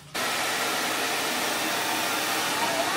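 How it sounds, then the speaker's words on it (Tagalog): A hair dryer blowing on hair switches on abruptly and keeps up a loud, even, close-up whoosh of rushing air that does not let up. "Mag-blower lang ako ng buhok."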